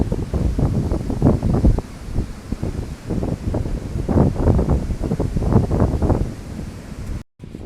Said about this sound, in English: Wind is picking up again, so I'm going back into my teepee.